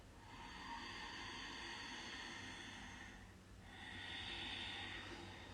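A long, steady breath in during a gentle seniors' yoga exercise, close and quiet with a soft airy hiss, followed by a short pause and a second inhale.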